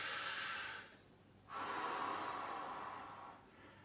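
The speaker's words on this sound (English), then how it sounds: "And then all you need to do is take a deep breath." A deep breath taken during a seated low back release stretch with knees drawn in and fingers linked: a long breathy inhale, a brief pause, then a slower exhale, close and quiet with no talking.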